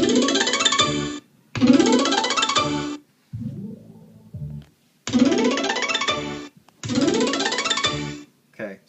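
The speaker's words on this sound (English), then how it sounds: "I do my speaker test here." Realtek 5.1 speaker test chime on a computer sound manager, playing as four loud bursts of a bright bouncy tone with short gaps and a quieter fragment between, heard alone without talk.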